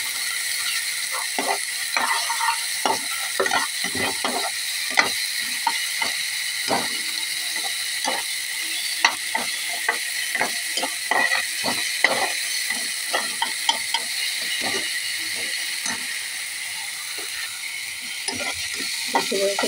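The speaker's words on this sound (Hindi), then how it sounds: "प्याज हरी मिर्ची मसाले के अच्छे से भून लेते हैं।" Onion, green chilli and spices fry in a pan with a constant high hiss, while frequent sharp clicks and taps from stirring against the pan punctuate it up close.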